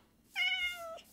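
A Jellie cat in the Minecraft video game gives a single clear, drawn-out meow, close and alone against a quiet background.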